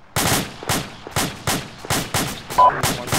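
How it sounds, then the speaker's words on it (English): Heavy gunfire in Arma 2, with sharp, loud shots cracking out in a steady rhythm of about two per second and a brief tonal beep near the end. "we're currently taking pretty heavy fire from the north"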